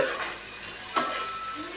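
Green chillies and onions fry in a pan for a fish curry, a close, even sizzle with one sharp stirring scrape midway through.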